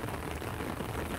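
Steady rain falling at Jukdo Park in Songjeong, Haeundae, a dense, even hiss of drops on surfaces filling the short moment with no voices.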